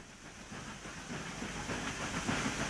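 Radio-drama train running on the track, a steady hissing rush with faint rhythmic clatter, continuous and moderately loud, no voices over it.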